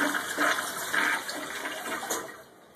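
A basic Chinese toilet flushes close by with a rushing gush of water that swirls and drains, tapering off over a few seconds.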